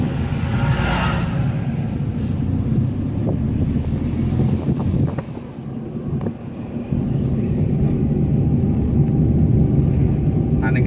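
A Tata Nano drives along a mountain ghat road under construction, its steady engine drone and low road rumble heavily buffeted by wind noise throughout, dipping briefly midway.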